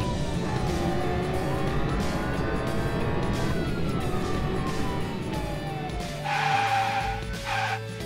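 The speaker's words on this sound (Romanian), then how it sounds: "Mașina de poliție se avântă în urmărire." A cartoon police car races off in pursuit, its engine whining and rising in pitch as it speeds along, then a siren-like wail and tyre screech cut in near the end, loud and continuous.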